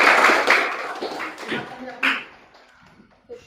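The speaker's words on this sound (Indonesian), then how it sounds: "tepuk tangan kelompok 1 kelompok 2" Students in a classroom clap their hands in applause for two groups, a loud burst of overlapping claps at the start that thins into scattered, fading taps, with a final clap near the end.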